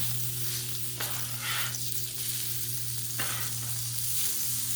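Breakfast sandwich sizzling in bacon grease on a Blackstone griddle, a continuous close crackling hiss over a low steady hum, with a few sharper scraping bursts from a scraper or spatula, no speech.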